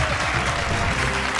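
Dense, loud applause from a studio audience welcoming a Bhojpuri singing competition show, a continuous wash of clapping with no talk.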